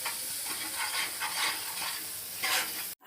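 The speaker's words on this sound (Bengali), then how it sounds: "এবার আমি আচারটা অ্যাড করে দিচ্ছি। একটু নাড়াচাড়া করে নেব।" Pickle being stirred into a frying spice paste for achari rui fish curry, a steady sizzle with scraping spoon strokes across the pan, close and alone, ending abruptly.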